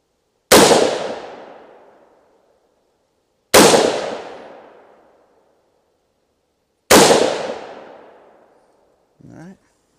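Three loud, sharp shots from a 300 Blackout rifle fired at a target crack out at even intervals about three seconds apart, each trailing into a decaying outdoor echo, followed by a brief faint clink.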